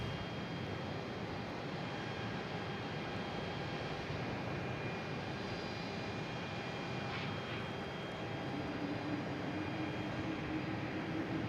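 A JetBlue airliner at Boston Logan International Airport gives a steady, broad engine roar throughout, moderately distant and even in level, with no voices.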